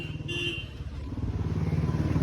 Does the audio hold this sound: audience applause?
no